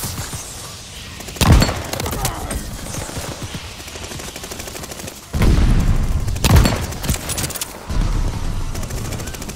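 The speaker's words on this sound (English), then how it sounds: "Tossing grenade!" Grenade explosions in a World War II shooter video game, with the Type 99 in play: two loud, booming blasts several seconds apart over steady background gunfire and battle noise.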